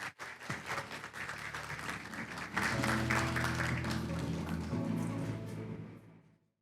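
An audience at a 5G-V2X technology showcase event in Korea breaks into applause to welcome a speaker, a dense wash of clapping that swells, holds, then tapers off under a low musical tone.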